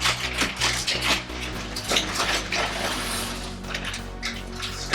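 Dry pasta tipped into a pot of boiling salted water, a broad watery churn and splash with some clinks, fairly close and steady, no talk.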